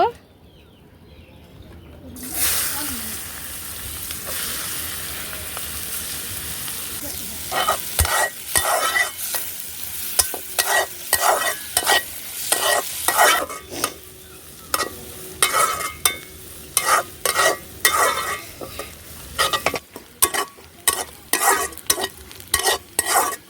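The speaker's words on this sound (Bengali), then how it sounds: "আমি হচ্ছে এই গরম তেলে এই পেঁয়াজগুলো সব দিয়ে দিব" Onions fry in hot oil for a quail egg curry in a village kitchen. A loud sizzle bursts in, then a spatula scrapes and stirs in quick repeated strokes over the steady crackle, with some birds cooing faintly in the background.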